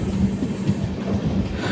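A passenger train on the Tirupati route near Yelamanchili rolls along the rails with a steady, loud rumble and faint rhythmic wheel clatter, heard from inside with no talking.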